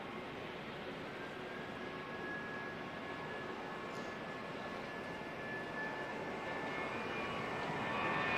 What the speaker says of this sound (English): Jetstar 237 off to Christchurch.